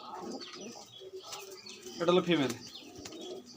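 Two white Rajshahi Giriraj pigeons coo softly indoors in a room, with low repeated murmuring calls between stretches of someone talking nearby.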